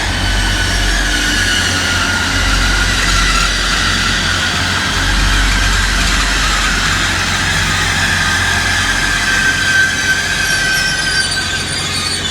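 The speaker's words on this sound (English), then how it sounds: "Class 180 coming into platform 1 at Loughborough station going north." A Class 180 diesel train pulls into platform 1 at Loughborough station heading north, with a loud, continuous rumble and a sustained high brake squeal that fades near the end.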